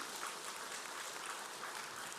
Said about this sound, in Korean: 박수로 하나님께 영광 올려드리겠습니다.